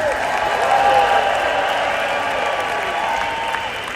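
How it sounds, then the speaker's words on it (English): Applause and crowd noise in a large convention hall at the WFG Convention 2025, a broad even roar of clapping with a speaker's amplified voice carrying over it, fading slightly toward the end. "let's give the Home Office a round of applause"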